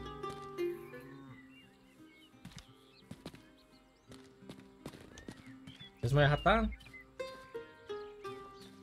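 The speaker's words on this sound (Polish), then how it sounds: "O, jest koń." A horse in the medieval video game Rustler gives a loud whinny and snorts among clopping hooves, with someone speaking over parts of it.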